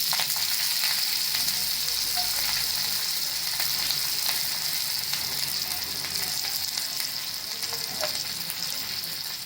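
Curry leaves, mustard seeds and asafoetida sizzle steadily in hot oil, a dense close crackling hiss with scattered pops, heard without talk.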